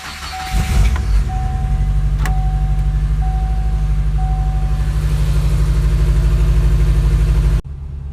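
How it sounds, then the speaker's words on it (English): A Subaru Impreza 2.5RS engine with new headers and exhaust cranks with a brief whine, catches with a burst, then holds a loud, deep, throbbing idle up close before cutting off. "Starting the car up with exhaust."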